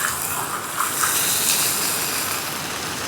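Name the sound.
boiling water poured into pan with roasting duck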